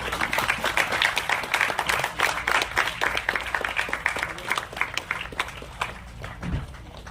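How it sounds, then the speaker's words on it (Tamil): An audience at a Tamil film event gives a big round of applause: dense, steady clapping from many hands for several seconds, gradually thinning toward the end. "எல்லாரும் ஒரு பெரிய கரகோஷம் கொடுத்துடலாமா?"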